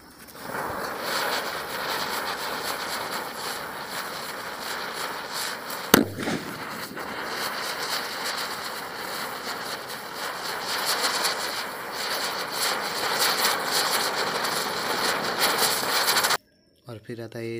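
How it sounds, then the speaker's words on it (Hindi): A sutli bomb firecracker, part of a combined chakri-and-bomb cracker tested for Diwali, goes off outdoors with one sharp loud bang, amid steady crackling and hissing from the spinning chakri before and after it. "सबसे पहले हम लेंगे ये चक्री प्लस बम, सुतली बम। चलिए इसको टेस्टिंग करते हैं।"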